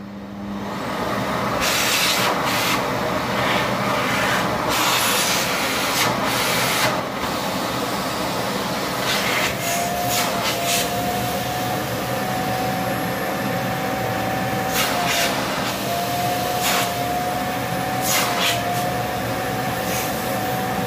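A Siemens X6.0 Extreme Power vacuum cleaner runs after maintenance with a steady, loud whirring drone, and short clicks and knocks sound over it.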